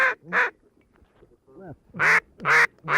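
Ducks quacking during a South Texas duck hunt with decoys as a hunter calls them, a series of loud close quacks in pairs with a short gap, partly a human duck call imitating them.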